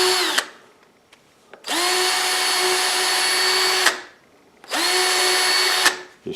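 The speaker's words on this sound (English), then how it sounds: "I'm going to drill a hole right down through the center of it." A power drill whirs loudly in two long steady bursts, each spinning up and winding down, with short quiet gaps between them.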